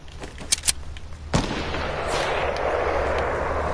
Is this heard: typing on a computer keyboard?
no